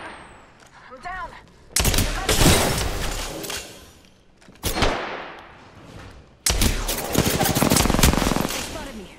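Enemy gunfire strikes the player in a shooter video game: three loud, dense bursts of rapid shots and impacts, separated by brief quieter gaps of rumbling game noise.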